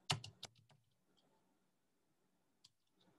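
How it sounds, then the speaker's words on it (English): Computer keyboard typing, a quick cluster of soft key clicks followed by quiet gaps and one or two isolated taps, close and faint. "Maybe typing here"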